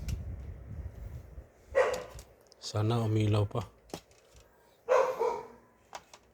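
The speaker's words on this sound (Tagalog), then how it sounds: "Ingay naman ng aso na yan." A dog barks a few times nearby in short bursts, with people talking in between.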